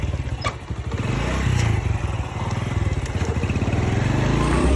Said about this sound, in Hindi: भाई कज़न मेरे ने बाइक स्टार्ट कर दिया।